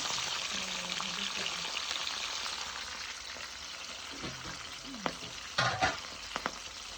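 Fish sizzling as it fries in a pan, a steady hiss of hot oil that runs throughout, with a few sharp clinks and scrapes of a utensil stirring near the end and a faint voice briefly in the background.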